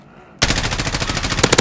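Loud automatic gunfire in Call of Duty Modern Warfare Warzone, a sudden close burst of about fifteen rapid shots after a quiet moment, with a few heavier cracks at the end.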